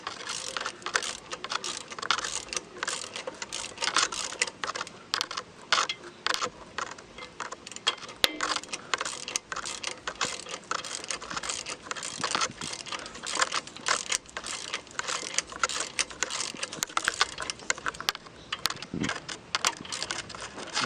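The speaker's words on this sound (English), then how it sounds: "I decided to insert these bolts, and now I'm gonna rotate it, and that should push the disc" Bolts on a 2003 Toyota 4Runner V8 rear brake rotor being turned with a ratchet to push the disc off, a steady run of rapid clicking and metallic ticking, close and continuous throughout.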